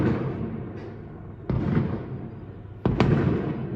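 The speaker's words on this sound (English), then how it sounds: "just to celebrate my gammon, I've arranged a fireworks display" A fireworks display crackles and booms, with sharp bursts landing about every second or so over a continuous fizzing, crackling backdrop, fairly loud and close.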